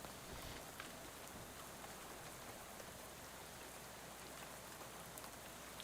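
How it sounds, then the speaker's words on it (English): Steady rainfall in the video game Shadows over Loathing, an even, hissing wash of drops that stays constant and fairly quiet throughout, with no voices. "Oh, it's raining."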